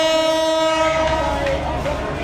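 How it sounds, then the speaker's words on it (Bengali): A train whistle sounds at Rajshahi railway station in Bangladesh. It is a loud, sustained tonal blast heard close by, fading slightly toward the end over the rumble of the station. "হুইসেল বেজে গেল 7টার সময়।"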